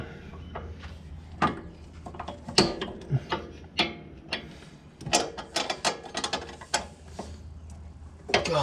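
Wrench ratcheting and clanking on a rusty sway bar bolt on an EK Honda Civic, irregular sharp clicks and metallic knocks in uneven bursts, fairly close.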